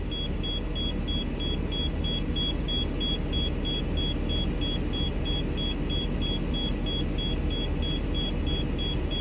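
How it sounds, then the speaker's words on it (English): RV air brake system with a compressor building pressure after a brake application, a constant loud motor drone with a rapid repeating high beep pulsing throughout. "Every time you apply your brakes, it's got to replenish the air that it's lost through the application of your service brake."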